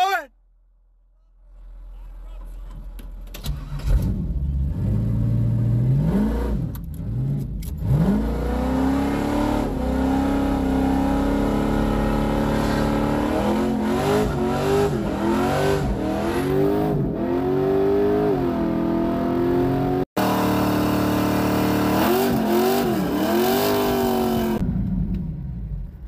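A car engine revs hard and repeatedly during a burnout, its loud roar rising and falling in rapid surges for over twenty seconds, with voices in the background.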